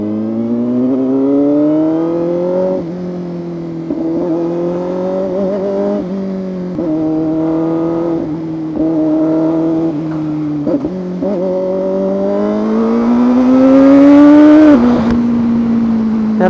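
A 500cc inline-four sportbike engine revs repeatedly in first gear, each run climbing and then dropping back between throttle blips. Near the end it reaches a louder, higher-pitched peak before falling away, and it is heard close up with no talk.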